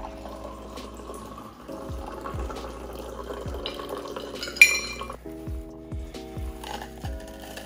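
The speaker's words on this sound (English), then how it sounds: "I'm gonna take a double old fashioned glass and just pour that right in" Mai Tai being poured into a double old fashioned glass, with ice clinking and rattling in rhythmic bursts against the glass, close and fairly quiet, plus one sharp bright clink partway through.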